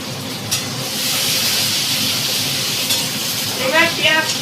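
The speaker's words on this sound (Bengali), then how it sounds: "আমি এই যে পেঁয়াজ কুচিটাকে ছেড়ে দিচ্ছি, পেঁয়াজ কুচিটাকে ছেড়ে দিলাম," Chopped onion sizzles steadily in hot oil in a home kitchen pan while being stirred, with a continuous frying hiss and occasional scraping, no voices.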